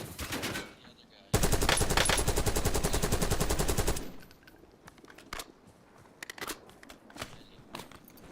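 Call of Duty Warzone battle in Verdansk: a loud, close burst of rapid automatic fire lasts nearly three seconds, then scattered single shots and clicks follow more faintly, with brief talk at the start.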